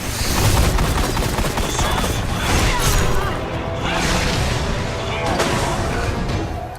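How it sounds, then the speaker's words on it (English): Enemy minigun and rocket fire in the Destiny video game form a dense, loud, continuous barrage of rapid shots and blasts, with players talking over it. "they have like a minigun and they shoot rockets"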